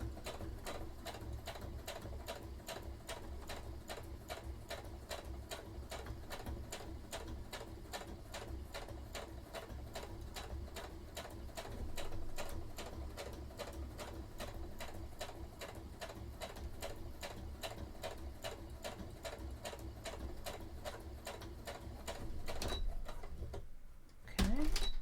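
A sewing machine stitches cosplay shirt sleeves in one fast, steady run of even mechanical clicks for most of the time, then stops abruptly just before the end.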